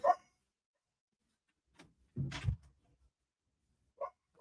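Several short dog barks sound in a quiet room, one sharp yelp at the start and a louder double bark midway, then two brief yips, with silence between.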